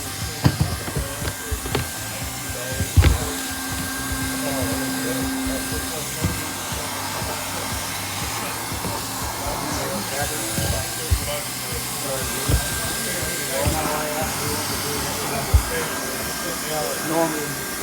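Hot air welder running at about 750 degrees along single-ply roofing seams beneath a wall, a constant blowing hiss under scattered knocks and clicks from handling, with faint talk here and there.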